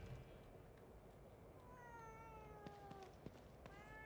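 A cat in The Evil Within 2 gives a few soft, drawn-out meows that slide in pitch, quiet against a steady low rumble and a couple of faint clicks.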